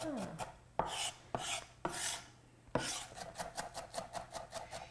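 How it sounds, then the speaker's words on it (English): Knife chopping raw food on a cutting board, with a few heavier separate cuts followed by a quick, even run of crisp taps, close and clear with no talking. "when you're chopping like this as well, what you're doing with any chopping, whether it's herbs as well, you're using the knife on the board"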